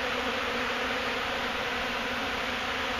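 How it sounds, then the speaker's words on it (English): A dense, steady swarm of honey bees buzzes at an opened hive during a bee removal in Wellington, Florida, a loud close drone filling the air without a break and no voices over it. "that's a lot of bees, isn't it, people?"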